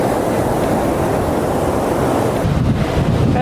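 Big ocean waves crash and roar loudly and continuously on the shore at Mirissa, Sri Lanka, with heavy wind buffeting the microphone throughout and a fresh surge of surf near the end.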